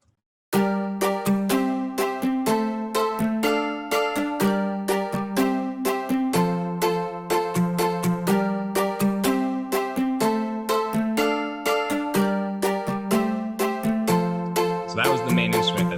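Synth patch from Omnisphere with a plastic Stratocaster character, playing a steady, repeating plucked, chime-like pattern, bright and close, for about fifteen seconds with no speech.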